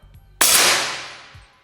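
One sharp PCP air rifle shot cracks out loudly and close, its bright hiss decaying over about a second, followed by quiet.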